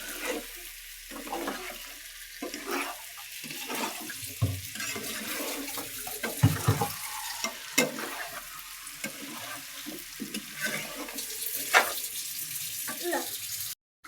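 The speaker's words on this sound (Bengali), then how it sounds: "মগে পানি নাও।" Water pouring into a mug beside a pot of beef curry with potatoes in a home kitchen, a steady splashing trickle with clinks and stirring sounds, close and fairly loud, with brief talking.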